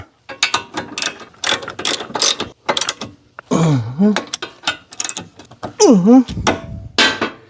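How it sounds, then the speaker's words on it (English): A ratchet tightens a bolt during car suspension work, with quick close bursts of clicking strokes broken up by other metallic clanks and scrapes. "we'll tighten it with the ratchet"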